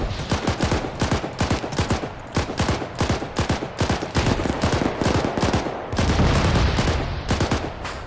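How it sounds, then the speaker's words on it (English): Heavy guns firing in the combat flight simulator DCS World: loud, rapid, evenly spaced bursts of shots that repeat steadily and end in a sustained roar of fire. "I didn't know these guns were that powerful"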